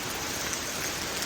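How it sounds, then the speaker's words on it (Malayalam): Heavy rain falling steadily as an even, unbroken hiss of drops pattering on surfaces, close and fairly loud from start to finish. "ഫുള്ള് മഴ."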